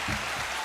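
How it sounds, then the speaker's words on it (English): A canned applause button sound effect plays, a short, loud burst of dense crowd clapping that cuts off after a fraction of a second. "I'm giving you the applause button right now."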